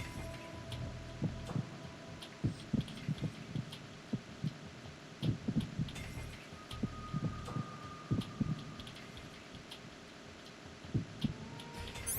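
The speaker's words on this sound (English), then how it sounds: "Okay, you have a heartbeat." Thumping heartbeat effect from the stealth video game Metal Gear Solid 2, a steady run of soft low pulses repeating for about twelve seconds over a faint ambient hum, with no voices.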